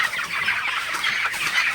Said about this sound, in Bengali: ব্রয়লার মুরগিকে রাতের বেলায় বেশি বেশি তাড়াবেন